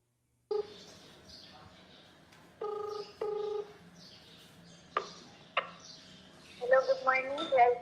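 A phone number is dialed on a telephone to call the police: a string of separate keypad tones in short bursts, followed by faint bird chirps or ringing near the end.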